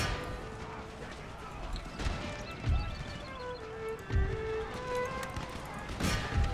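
Horse hooves clatter in a steady clip-clop under a dense battle soundscape as cavalry gallops into combat in Empire: Total War, with whinnies and clashing sounds mixed in and no speech.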